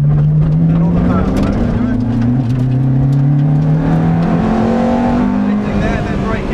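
Ferrari F430 engine pulling hard on a track, a loud continuous roar climbing in pitch through the revs, dipping at a shift and climbing again, heard close from inside the car with a driver talking over it.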